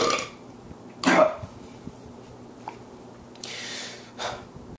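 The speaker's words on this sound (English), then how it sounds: "Hold on, I have to burp." A person burps once, loud and close, with short breathy sounds and a longer exhale afterward in an otherwise quiet room.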